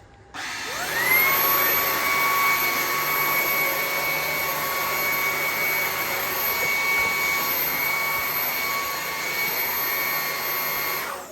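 A Ryobi 18V cordless stick vacuum runs steadily with a high, whining motor hum that rises quickly at the start and holds constant, close and loud.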